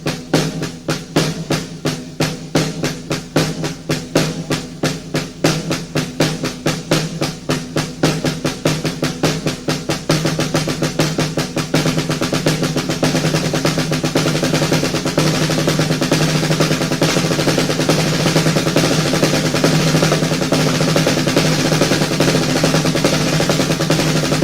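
A drum pattern of triplet sixteenth notes mixed with half-paradiddle sticking, rapid even strokes in a fast stream that blur into a dense continuous roll in the later half, loud and close.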